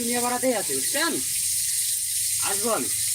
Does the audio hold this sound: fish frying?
yes